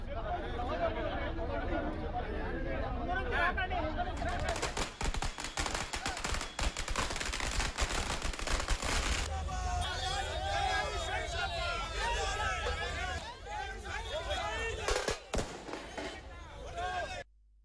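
Firecrackers burst at Shamshabad bus stand during a JAC rally celebration, a dense rapid crackle of sharp pops at close range that thins into scattered bangs, with crowd chatter and voices throughout.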